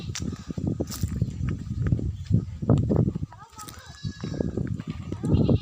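Goats bleat amid a noisy farmyard also keeping dogs, roosters, country chickens, swans and cows, several wavering calls rising over steady background chatter and movement.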